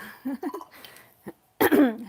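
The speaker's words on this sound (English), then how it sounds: "I'm coughing again" A brief cough bursts out near the end, following a few short vocal sounds and a moment of quiet.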